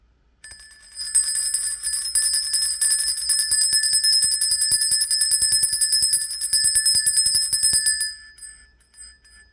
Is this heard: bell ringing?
yes